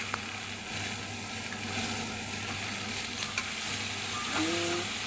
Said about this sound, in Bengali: সব রকম তরকারি দেওয়া হচ্ছে